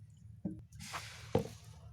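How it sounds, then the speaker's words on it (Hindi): Cow dung and cow urine poured into water with jaggery, making two soft wet splashes and squishes, faint and close, with no talk. "फिर इसमें डालेंगे गोबर और गौमूत्र"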